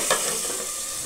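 Potatoes for aloo posto are fried and stirred in a pan, with a loud, close sizzle and a quick scraping stir near the start, lasting about a second.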